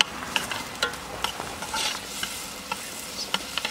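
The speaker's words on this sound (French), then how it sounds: "Voilà, on fait revenir pendant 2-3 minutes" Vegetables sizzle and crackle in a hot pan, with frequent clicks and scrapes of stirring, close and moderately loud.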